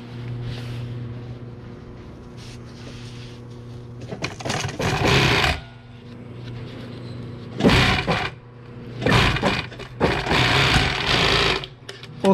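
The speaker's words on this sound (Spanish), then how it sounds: "Usted puede empezar a coser la banda de acá, una parte, de ahí le da vuelta y cose la otra parte." A sewing machine stitching the band of a truck seat's upholstery: steady bursts of rapid, buzzing stitching, loud and close, separated by pauses with a low hum in the background.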